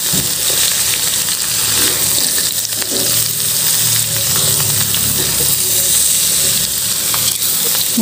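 Onions and tempeh sizzling and frying in a pan as they are stirred, a steady loud hiss with scraping stirring strokes throughout and no talking.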